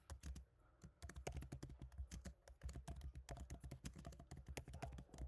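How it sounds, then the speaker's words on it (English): Rapid typing on a computer keyboard, a dense run of crisp key clicks in an uneven rhythm with brief pauses, close and fairly loud throughout with no talking. "So I'm typing away everything that I am seeing up there."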